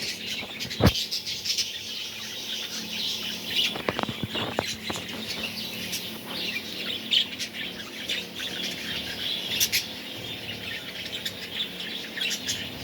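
Budgerigar parrots of various colours chirping and squawking, a steady busy chatter of small bird calls with occasional sharper squawks, close and continuous with no talk.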